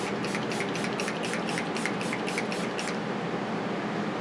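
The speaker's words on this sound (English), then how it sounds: "All we need left is our setting spray." A makeup setting spray is pumped in a rapid run of about nine short misting bursts over steady background hiss, then the puffs stop while the hiss continues.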